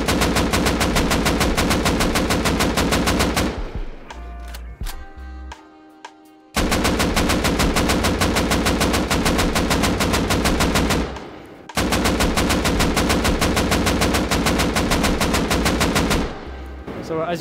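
An AK rifle fitted with a muzzle brake fires in the game Rust in long, rapid automatic bursts, loud and close, three sustained strings of shots separated by short pauses with faint mechanical clicks.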